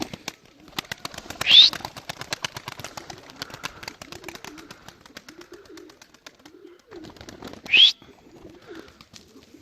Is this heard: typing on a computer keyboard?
no